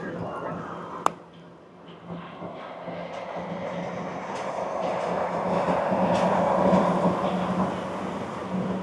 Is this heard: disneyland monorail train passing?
yes